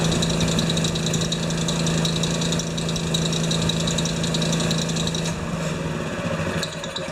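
A Honda engine on a wheelbarrow air compressor runs steadily close by, a loud continuous droning hum with a knocking edge that dips slightly near the end, with no talk.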